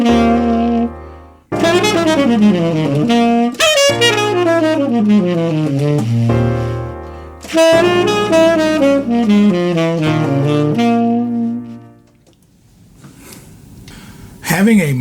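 A blues scale played on piano in loud, ringing phrases with sustained chords underneath, a brief pause near the start and a quieter, noisier stretch toward the end.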